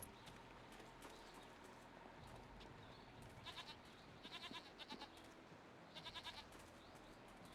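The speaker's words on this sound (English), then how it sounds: "Here's some goats." Goats in the video game Jade Empire give several short, faint bleats in quick bursts over a low ambient game background.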